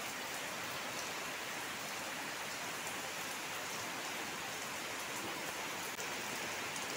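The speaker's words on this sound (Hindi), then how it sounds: "देखिए फुल बारिश है" Steady, dense rainfall pours down without pause, a loud continuous hiss of heavy rain hitting surfaces close by.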